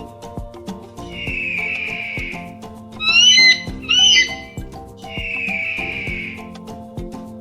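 An eagle calls with a long, thin whistled cry, then two quick bursts of sharp, chattering screeches, then another long whistle. The calls are fairly clear over a faint background, with no talking.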